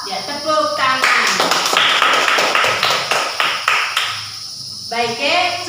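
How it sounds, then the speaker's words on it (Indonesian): Schoolchildren in a primary classroom clap their hands together in a loud, rapid burst lasting several seconds, bracketed by a teacher's voice before and after. "tepuk tangan."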